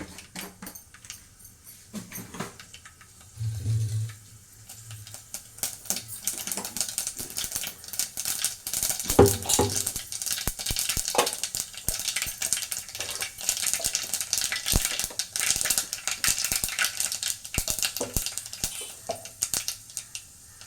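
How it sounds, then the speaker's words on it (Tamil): Mustard seeds spluttering in hot oil for rasam, a faint irregular popping and crackling that grows busier after the first few seconds, with scattered sharp pops over a quiet background. "கொஞ்சமாக கடுகு போட்டாச்சு."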